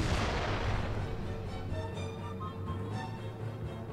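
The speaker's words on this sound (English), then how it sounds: "Cannon!" A cannon shot in the Rock of Ages II video game, one heavy booming blast at the start that decays into a long rumbling, ringing tail.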